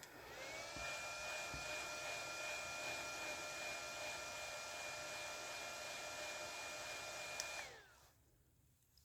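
A hair dryer blows with a steady whirring hum and a high tonal whine, then clicks off near the end, leaving quiet room tone.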